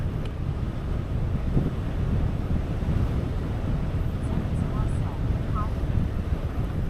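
Stiff headwind buffeting a rider on an e-bike fitted with a Bafang kit, a constant low rumbling roar pressing on the microphone throughout, with no break in the gusting.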